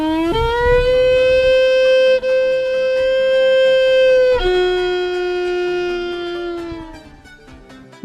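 A violin mimics a wolf howling: long, sustained wailing tones that slide up, hold steady, then dip and slowly fade over several seconds, loud and alone with no voices.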